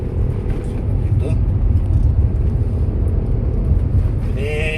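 A Toyota Avanza fitted with an auto-clutch conversion cruises in fourth gear, giving a loud, continuous engine and road rumble from inside the cabin, with people talking over it.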